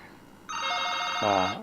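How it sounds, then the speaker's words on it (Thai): A telephone rings with a bright, electronic multi-tone ring lasting about a second, starting suddenly and shifting to a lower warbling tone near the end, heard close and clear over a quiet room. "เวลารับโทรศัพท์ก่อนเนอะ"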